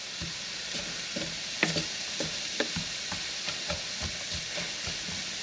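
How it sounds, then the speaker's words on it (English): Onion chunks sizzling in oil in a pan while cooking beef lo mein, a steady frying hiss with occasional sharp pops and soft stirring scrapes, no talking. "Get them all nice and coated in the oil. We'll just let them simmer."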